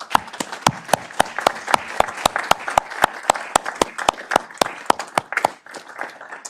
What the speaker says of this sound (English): if we could also give Dave a big round of applause